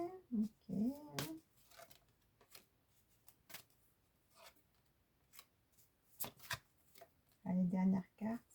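Tarot cards riffled and shuffled in short bursts, with soft card slaps and handling between them, close and quiet, while a voice speaks intermittently.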